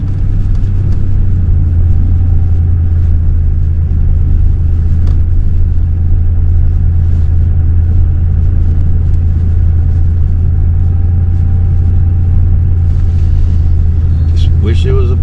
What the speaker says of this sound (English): A little four-wheeling through here.